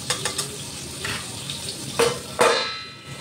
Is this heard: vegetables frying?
yes